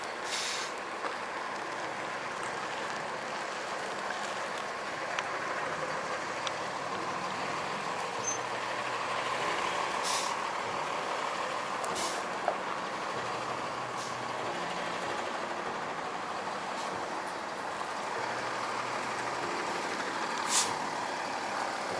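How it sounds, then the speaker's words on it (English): A Tiffin Allegro bus motorhome arrives at a repair lot, a steady vehicle rumble with several sharp hissing bursts of air brakes spaced through the run, heard at moderate distance with no one talking. "It's a Allegro bus back from, I guess, his day of work, getting repairs."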